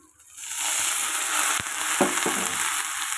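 Water poured into a hot pan of fried chili, garlic and ginger paste, bursting into a loud, steady sizzle after a quiet start, with a few clinks of a spoon stirring.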